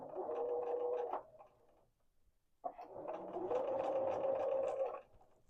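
A home sewing machine stitches fabric along curved edges in two steady runs, a close, continuous whirring hum that stops briefly for about a second and a half before starting up again.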